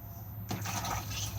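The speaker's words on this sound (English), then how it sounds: "push to flush" An Elddis Majestic 285 caravan's cassette toilet flushes with a sudden, close rush of water halfway through that runs on to the end.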